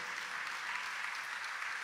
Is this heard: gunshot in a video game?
no